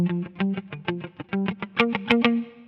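An uncompressed instrument track with distorted, effected tone plays a run of separate notes in a steady rhythm, each attack standing out sharply, with a few louder bright hits near the end.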